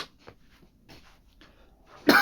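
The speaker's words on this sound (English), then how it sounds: "Excuse me again for coughing." A single sharp cough bursts out at the end, loud and close, after a stretch of quiet shuffling and faint breathy sounds.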